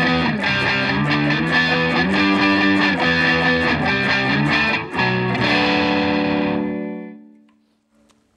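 A Monoprice Indio electric guitar on the middle pickup plays loud distorted chords through an effects chain, strummed in a steady rhythm before the last chord rings out and fades to silence.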